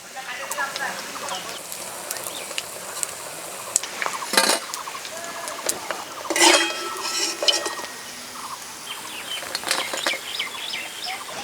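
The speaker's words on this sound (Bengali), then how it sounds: "উনুনের জাল কমিয়ে দিয়ে মাছ লাল লাল করে ভেজে নিলাম" Shol fish frying in a pan over a lowered flame, a steady hiss with clinks and scrapes of a spatula against the pan, several sharper bursts standing out.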